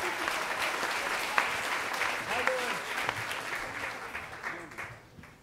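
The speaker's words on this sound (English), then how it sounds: "How about a big round of applause for Elizabeth?" An audience at a Moth storytelling event applauds for Elizabeth Trundle, a full, dense round of clapping that gradually thins and fades toward the end.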